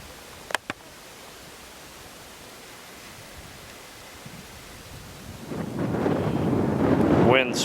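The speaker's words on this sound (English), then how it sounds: "Wind switched out of the north." Wind gusts in the Alaskan mountains during a caribou hunt, starting as a low steady rush and swelling into loud, buffeting microphone noise over the final seconds after a couple of sharp knocks.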